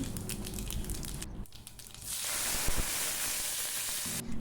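Hissing, crackling sizzle of mustard seeds, fennel seeds and curry leaves frying in hot oil, a continuous bright spitting sound with some stirring clatter, close by.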